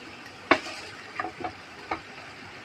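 Galunggong fish and sautéed ingredients stirred in a pan for sarsiadong galunggong: a soft frying sizzle broken by a few sharp, close spoon-against-pan clinks and scrapes, with no talking.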